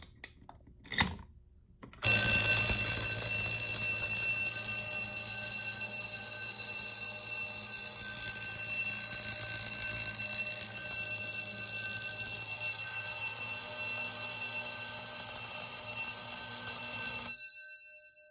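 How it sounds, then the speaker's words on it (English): A loud, continuous electric alarm bell on a Notifier MD-8 fire alarm panel rings steadily for about fifteen seconds after a brief click from a pull station being activated, then stops abruptly. "Bell is silenced."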